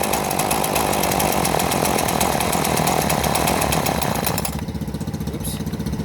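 A Homelite two-stroke chainsaw runs loud and close at a high, buzzing pace for about four and a half seconds, then drops to a lower, pulsing idle.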